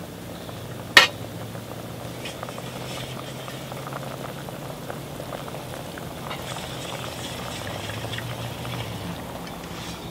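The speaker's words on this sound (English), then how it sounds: "Start to simmer. We're going to get that reduced." A pot of liquid simmering for apricot bread pudding bubbles steadily and softly, with a brief clank near the start, then an even low burble continuing alone.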